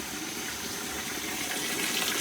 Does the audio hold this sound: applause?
no